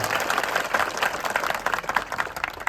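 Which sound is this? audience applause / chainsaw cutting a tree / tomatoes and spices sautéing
audience applause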